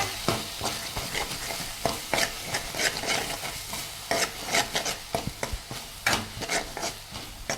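Chicken curry ingredients with onion stirred and fried in a pan on a gas stove: a steady sizzle with repeated scraping and tapping of a spoon against the pan, close up, no voices.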